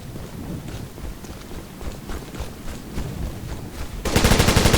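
Sustained suppressing rifle and machine-gun fire in the military shooter Operation Flashpoint: Dragon Rising, a steady rattle under wind noise that turns into a louder, sharper burst at the end.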